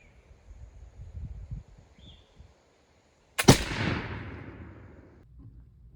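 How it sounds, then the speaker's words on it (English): A single loud shot from a flintlock musket, an Indian trade gun loaded with a turkey load of powder and shot, cracks out after a few seconds of quiet outdoor ambience, then a long rumbling decay trails off. "using the same powder charge and shot and fired from the Indian trade gun"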